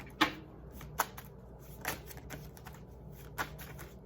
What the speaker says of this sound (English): let's just pack this up and let's just pull some of these cards